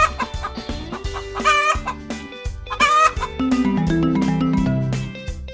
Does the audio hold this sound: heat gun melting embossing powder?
no